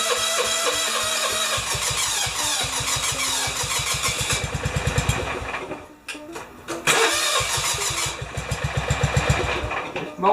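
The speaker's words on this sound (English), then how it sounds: "mower always cranks really slow." A John Deere 165 riding mower engine cranks slowly with a steady rhythmic chug, pauses briefly, then cranks again, loud and close with no talk.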